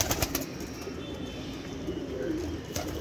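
A pigeon coos faintly on a rooftop amid soft rustling and low background noise, with no one talking.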